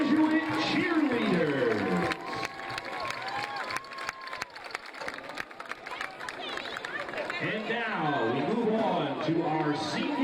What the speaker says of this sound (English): let's have a big round of applause for our senior Jesuit cheerleaders